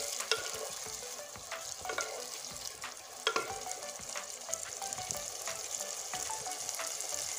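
Spices and chopped tomato are stir-fried together in a pan for a mustard-paste fish dish, giving a continuous close sizzle broken by sharp scrapes and taps of stirring, with no talk.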